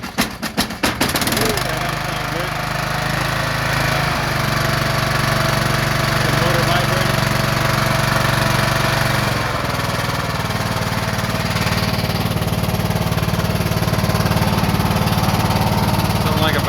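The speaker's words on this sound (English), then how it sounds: "I'm gonna go ahead and start this mower up now" A Troy-Bilt riding lawn mower engine cranks and catches in the first seconds, then runs steadily at a loud, rough idle with a shift in pitch partway through.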